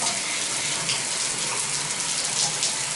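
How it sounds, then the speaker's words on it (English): A household shower in an apartment bathroom running hard with strong water pressure, a dense, steady rush of spraying water close by that holds constant with no pauses. "There we have the shower."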